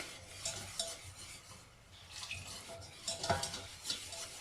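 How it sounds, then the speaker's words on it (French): A spoon stirs a flour mixture in a pan while milk is added little by little, giving soft scraping strokes in an uneven rhythm with faint sizzling and light clinks of utensil against the pot, close and quiet. "je mélange. je rajoute le lait petit à petit."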